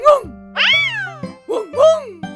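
A cat gives two clear, close meows in a row, each rising then falling in pitch. Soft chiming tones ring beneath them.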